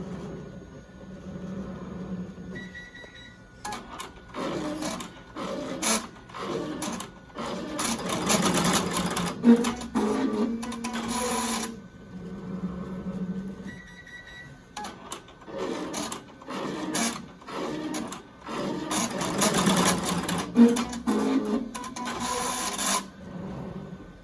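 A Melco embroidery machine stitches the pleat of a fabric mask, in two long bursts of rapid, loud mechanical chatter separated by quieter pauses and heard up close.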